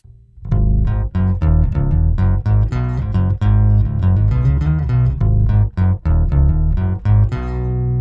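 Electric bass line played through an Electro-Harmonix POG octave-down pitch shifter pedal, deep doubled low notes plucked in a steady melodic run, loud and clean with no talk.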